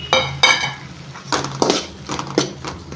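Sliced green chillies tipped into a pan of cooking tomato chutney, with a few sharp metallic clinks and scraping knocks of a utensil against the pan, spaced irregularly and close up.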